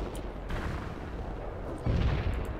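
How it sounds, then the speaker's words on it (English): Heavy artillery in World in Conflict fires in a dense barrage, with continuous booming rumble and a heavier thump near the end, loud and close, with no voices. "Heavy artillery firing for effect."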